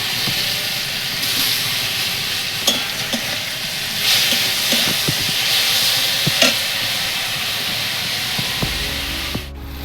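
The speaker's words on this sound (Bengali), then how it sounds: "এবার কুমড়োর আঁতিটা দিয়ে দেবো" Pumpkin pith frying in oil with garlic, dry red chilies and black cumin makes a loud, continuous sizzle, broken by scraping stirs and occasional sharp clicks of a spatula against the pan.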